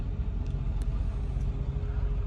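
Trucks idle in a long line waiting for fuel at a busy northeastern truck stop, a steady low diesel rumble throughout with no talk over it.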